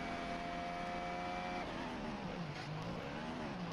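A Formula 1 car's engine during a qualifying pole lap at the Turkish Grand Prix, faint and distant, whining at a high steady pitch before dropping and rising through gear changes.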